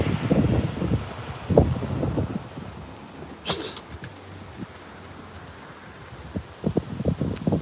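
Gusty wind buffets the microphone in rough, rumbling bursts, with birds cooing and leaves rustling nearby and a few voices calling out.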